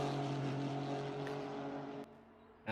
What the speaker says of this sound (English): it's just really interesting to hear the different engine notes here as well